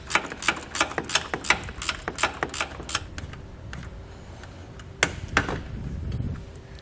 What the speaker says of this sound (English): I recommend using a ratcheting wrench